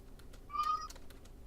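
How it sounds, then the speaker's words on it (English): A cat gives a single short meow, faint and somewhat distant, against quiet room noise and light tapping. "I heard a kitty."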